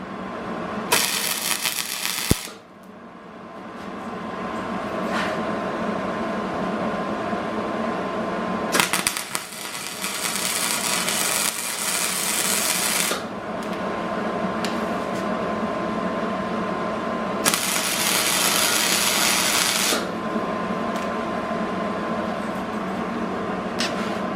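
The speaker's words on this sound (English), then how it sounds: "So we're just going to go ahead and weld this up." Steel pipe being welded for a fire pit built from a truck wheel, with three long bursts of steady, loud welding crackle and hiss separated by short pauses and a constant background hum.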